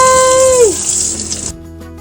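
Cold water, mixed with salt to help set tie-dye color, runs as a steady splashing hiss for about a second and a half before cutting off, with a brief whistling tone at the start.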